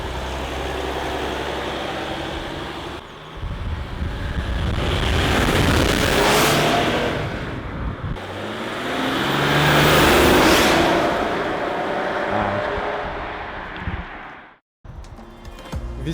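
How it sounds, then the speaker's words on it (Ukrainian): An Audi A6 3.0 TDI quattro diesel accelerating on a road: two loud swelling engine runs, each rising and falling, with a short break between them, then a sudden cutoff near the end. No speech. "Ладно, зараз їдемо на більш-менш нормальну дорогу і чуть-чуть газнемо."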